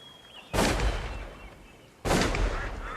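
Two loud, sharp gunshots from a duck-hunting simulator video game, spaced about a second and a half apart, each with a short booming tail; no one speaks.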